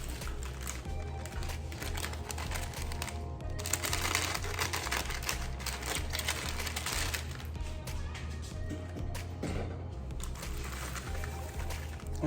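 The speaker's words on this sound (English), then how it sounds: "take our seaweed wrap. Let me cut that open." Seaweed wrap package for sushi being cut open in a kitchen, with crinkly plastic rustling, crackling and snipping throughout over a steady low hum, close and moderately quiet.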